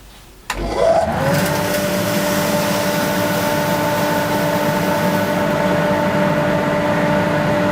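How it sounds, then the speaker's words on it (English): A workshop vacuum switches on with a thump and spins up into a loud, steady, whining roar through a small pipe, holding an even drone to the end with no voices. "Let's see what happens when I turn the vacuum back on."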